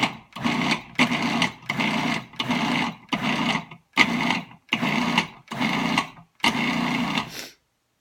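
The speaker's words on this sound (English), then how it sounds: "going to put the cover back on the food processor. And I'm going to pulse this for about 10 seconds" A food processor pulses pie dough in about ten short motor bursts, each roughly half a second long and separated by brief gaps, whirring loudly and evenly with no voices.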